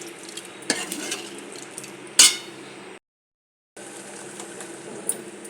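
A pot of dal with raw mango cooks on the stove, with a low simmering hiss, scrapes and clinks of a spoon stirring against the pot, and one sharp metallic knock, broken by a short silence.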